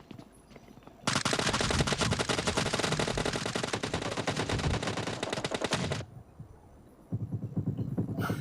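Sustained automatic gunfire from a hill in PUBG Mobile Lite, a loud, rapid rattling burst lasting about five seconds, then a short lull before the firing resumes.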